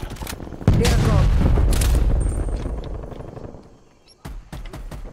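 In a shooter game, a player's gun fires in loud, close bursts with heavy booming, fades to a lull, then resumes with sharp shots near the end.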